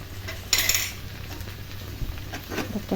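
A spoon clinks against a pot while spices are stirred into okra curry (bendakaya pulusu), with one brighter metallic scrape and faint soft rustles after it, all quiet and close.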